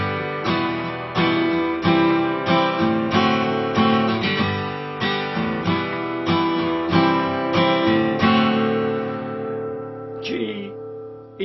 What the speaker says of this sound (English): I'm going to use a chord sequence that crops up again and again in popular music.